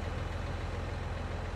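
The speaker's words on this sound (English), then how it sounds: "Start the engine." A tractor engine in the Farming Simulator 19 game runs with a steady, loud low rumble and even throb, heard alone without talk.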